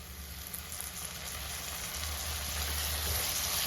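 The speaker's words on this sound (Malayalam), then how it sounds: "നമ്മുടെ തക്കാളി സവോളയും കൂടെ നന്നായിട്ട് കിടന്ന് വഴണ്ട് വരണം" Sliced tomato and onion sauté in a hot pan with a steady, close sizzle that grows slightly louder and more crackly over a few seconds, with no talking.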